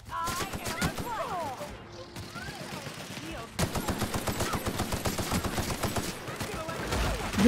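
Gunfire in the shooter Murder on Eridanos: rapid bursts of shots, a brief lull with scattered effects, then a sustained dense run of automatic fire.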